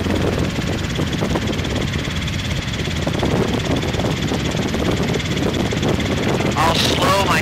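A Robinson R22 training helicopter in flight, its engine and rotor giving a steady, loud, droning hum with rhythmic blade chop, continuing evenly throughout with a brief higher whine near the end.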